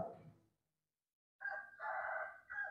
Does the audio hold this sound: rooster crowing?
yes